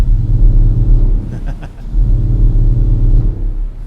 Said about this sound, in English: and then we have some thunder.